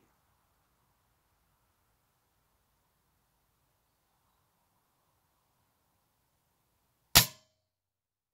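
A Diana Stormrider 5.5 air rifle is dry-fired without a pellet, giving a single sharp, loud snap near the end of an otherwise quiet stretch with a faint background hum.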